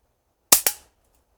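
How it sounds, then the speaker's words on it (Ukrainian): Two sharp shots from a Marksman Repeater rifle in a video game fire in quick succession, loud and close, each with a brief decaying tail, then silence. "Перший постріл."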